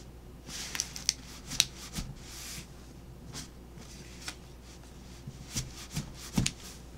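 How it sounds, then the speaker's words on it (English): Someone shuffles a fresh deck of stiff playing cards, producing faint, close riffling bursts and soft card slaps scattered irregularly over quiet room noise. "So I'll just shuffle."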